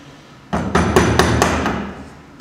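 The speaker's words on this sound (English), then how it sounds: "then I can just finish it off with the chisel" A chisel struck with a hammer to cut a mortice in timber: six sharp, close, evenly spaced blows in quick succession, each ringing briefly against the wood.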